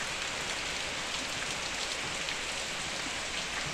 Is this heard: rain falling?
yes